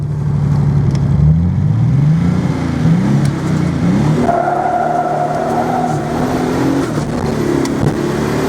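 Nissan 280ZX turbo fitted with a blow-off valve accelerating hard, with loud rising engine sweeps that climb and drop through the gears, a steady held tone partway through, and no talk over it.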